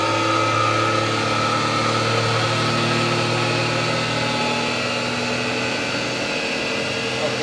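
Electric motor driven by a variable frequency drive at 90 hertz, a loud continuous whine and hum held steady throughout.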